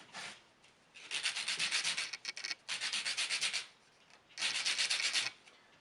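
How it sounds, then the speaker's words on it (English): A cut wooden dowel's edges rubbed with 60 grit sandpaper, three close, steady bursts of scratchy back-and-forth sanding separated by short pauses. "you take your cut dowel, and like I said, sand the edges"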